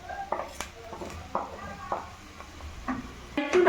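Chicken being stirred with garlic paste, turmeric, red chili, coriander and cumin powder in an oil-free pan. Repeated scraping stir strokes come at an irregular rhythm over a faint sizzle, with some talking mixed in.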